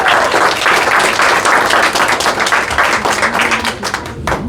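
A crowd at a Texas governor candidates' forum applauds the people who brought the food: dense, loud, steady clapping that runs the full length without a break and fades slightly at the end.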